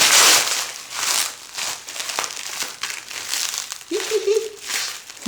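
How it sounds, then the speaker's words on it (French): Crinkly plastic packaging being crumpled and pulled open by hand, with a dense, continuous crackling rustle throughout and one brief soft voiced sound near the end. "il y a de l'emballage en dessous de l'emballage"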